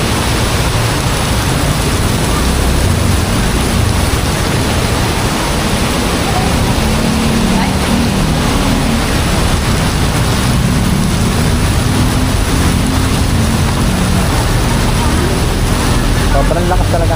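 Swollen Marikina River after heavy rain, a loud, steady rushing roar of fast floodwater filling the whole stretch without a break, dense and close.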